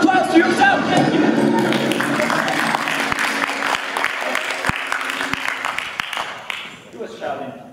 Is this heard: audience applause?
yes